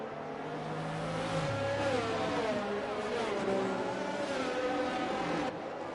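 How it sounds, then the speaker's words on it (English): Safety car V8 rumble in an F1 sim racing game on the Baku street circuit, heard from spectator view: a steady, continuous engine drone with shifting pitch, loud and close, no talking. "you can hear the V8 rumble of the safety car on spectator view as well"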